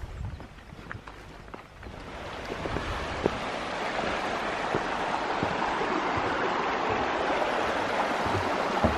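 Steady rushing water fills the clip, a continuous broadband wash of Scale Beck, a mountain stream below Scale Force waterfall in the Lake District, tumbling nearby, with no voices.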